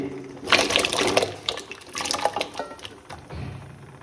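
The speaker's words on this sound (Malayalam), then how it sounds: "നമുക്കപ്പം അരിഞ്ഞു വെച്ച കപ്പ നമുക്ക് ഇട്ട് കൊടുക്കാം അതിൻ്റെ അകത്തേക്ക്" Chopped tapioca pieces splash into a pot of hot water on the stove, a quick burst of watery plops and sloshing followed by settling splashes, close and fairly soft.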